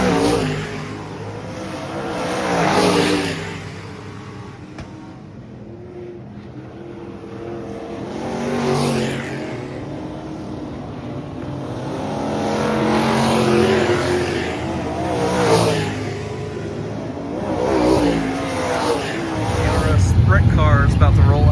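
Sprint cars roll out for a feature race at a speedway, engines droning and swelling in repeated passes at moderate distance, with a voice talking over them and a louder close rumble at the end.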